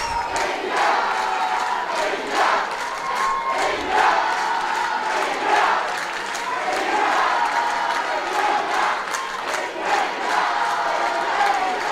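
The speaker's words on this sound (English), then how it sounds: "You can hear the fans cheering, waiting for Radha to push out the ball." Crowd of fans cheering and shouting at a women's field hockey gold medal match between China and India, a loud, continuous roar with surging yells and whistles that swell and dip throughout.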